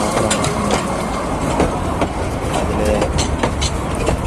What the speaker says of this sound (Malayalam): ഇതിലേക്കൂടെ ആ ടോയ് ട്രെയിൻ കുട്ടികളെയും കൊണ്ട് വരുന്നത്